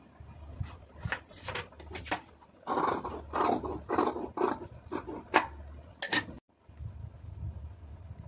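Scissors cut through folded blouse lining fabric close up, a run of crisp snipping and rasping strokes in uneven bursts, with a short pause before the cutting resumes.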